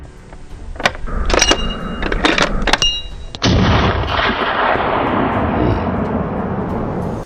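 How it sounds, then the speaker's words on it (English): A single loud gunshot fired at a wounded wild boar during an invasive-species hunt, a sharp blast followed by a long rumbling decay, after a few earlier sharp bangs and clatter. "One clean shot, and the wounded boar lost its footing."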